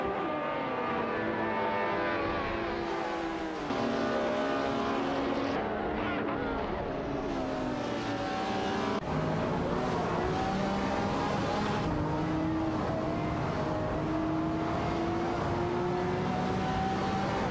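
Video game race cars, including a Lamborghini Reventon and an Aston Martin, roar continuously with rising and falling engine tones as gears shift, a steady loud drone with no pauses.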